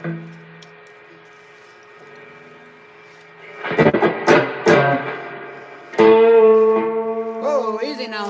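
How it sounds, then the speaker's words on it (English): Electric guitar run through a distortion effect, sustained held notes and chord stabs ringing out loud and close after a quieter clean stretch, with a brief burst of strummed attacks mid-clip. "We're going to give it a little distortion here."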